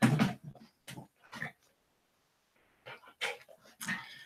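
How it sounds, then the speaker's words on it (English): A pet dog barks and grunts on command in a few short, close bursts separated by a pause, with faint whimpering sounds between them. "See if I can get him to bark. Speak. Speak."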